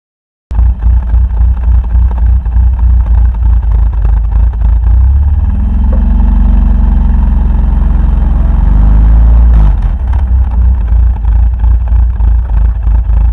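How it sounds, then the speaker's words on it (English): A 1963 MGB roadster starts up and accelerates hard from 0 to 60, holding third gear, its engine rising loud and close in pitch, then dropping briefly at a gear change before pulling again; no talking. "he suggested that I wait a bit longer to shift and try for 60 in third gear instead of shifting to fourth"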